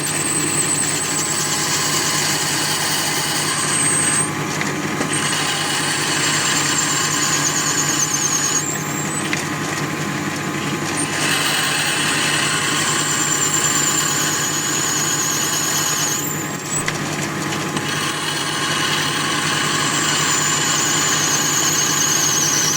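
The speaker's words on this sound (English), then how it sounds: "Put a drill bit in there and away we go" A power drill whines continuously at high speed while drilling into metal, its pitch dipping briefly a few times as the bit bites, with a steady mechanical drone throughout.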